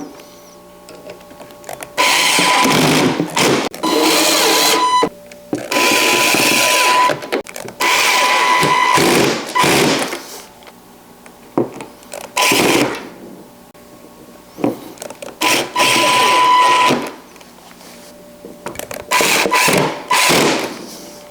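Hand screwdriver driving screws into an APEX RTA wall cabinet, heard as repeated bursts of scraping, creaking turns separated by short pauses, close and fairly loud with no talking.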